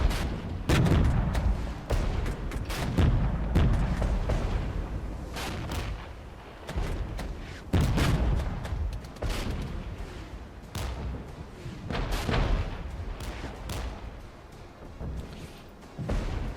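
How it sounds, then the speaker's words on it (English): Artillery and gunfire from a Regiments battle game: repeated heavy booming shots in irregular bursts, loud and close, layered over a constant rumbling battlefield din with no talking. "Let's make sure we're arting them."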